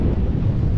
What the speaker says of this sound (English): It's windy and rough